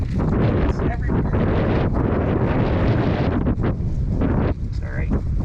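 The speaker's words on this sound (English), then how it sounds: "It's windy." Strong outdoor wind buffets the microphone in a continuous, loud roar with gusty fluctuations, near a classic car project.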